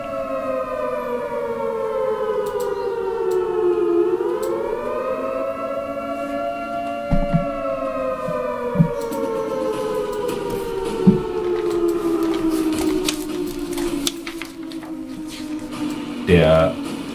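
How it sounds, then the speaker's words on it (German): Hand-cranked civil defense siren howling loudly as a steady wail. The pitch dips and recovers, then slowly sinks as the flywheel spins down, with a few knocks and clatters along the way. "Der Mann an der Sirene lässt die Sirene stehen und die Sirene schlägt noch allein durch die Wucht des Schwungrads einige Umdrehungen nach."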